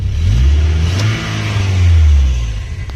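A car engine revs as gas is applied during a roadside repair of a hard-starting car, rising to a loud, strained roar, dipping briefly, then surging again before easing off. No one talks over it.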